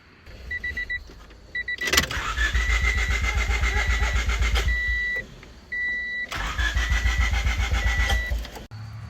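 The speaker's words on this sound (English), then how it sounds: "it's a crank no start, and I just can't seem to figure out why" A 1995 Honda Civic with a D15 engine cranks without catching: two long bursts of rhythmic starter churning, loud and close, with a steady electrical whine over it and a short pause between attempts.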